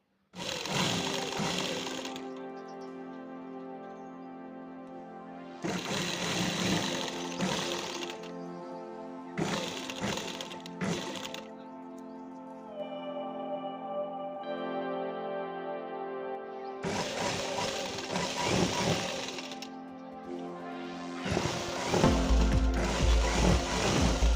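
An electric sewing machine stitches the side seam of a kurta, a Punjabi-style dress top. Its motor whirs steadily in several sustained runs, some long and some short, separated by brief pauses. It sounds close and moderately loud, with no talking.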